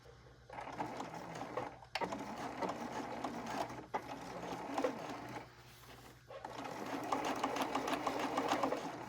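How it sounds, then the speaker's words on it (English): A sewing machine runs in steady bursts as it stitches a quarter-inch seam, attaching a fabric border to a cross stitch piece; the whirring motor stops briefly a few times before starting again, close and clear, with no talking. "sew my 1/4 inch seam along here"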